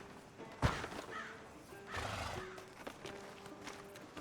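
A horse whinnies in Red Dead Redemption 2 on a town street outside a sheriff's office, a short clear call over faint ambient game sound.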